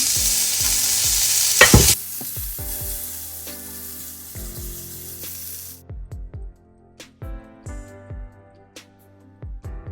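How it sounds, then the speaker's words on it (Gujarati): Oiled tofu hits a hot grill with a loud, sharp sizzle that lasts about two seconds and then cuts off abruptly. A series of plucked, musical tones follows. "એને આપણે ગ્રીલ કરી લેશું. થોડું આપણે ઓઇલ લઈ લેશું."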